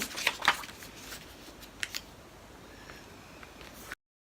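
Paper being folded over by hand, a few crisp crinkles and rustles near the start followed by quieter faint handling sounds.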